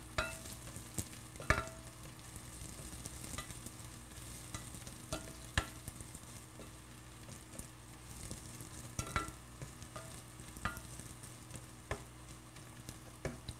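Shallots frying in oil until crispy brown, a steady soft sizzle with occasional stirring clicks and scrapes, close but fairly quiet, no talking.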